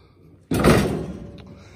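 A single sharp thump of a drawer or cabinet door on a Blackstone 36-inch Pro Series griddle stand, close and loud, followed by a short fading rattle.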